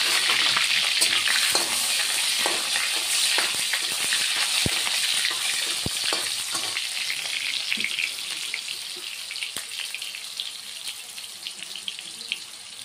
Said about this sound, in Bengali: এখন তেলের মধ্যে টমেটো একটা